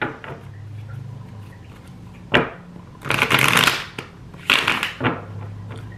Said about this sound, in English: Let me just shuffle like once,